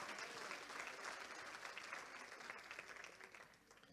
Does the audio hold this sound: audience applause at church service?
yes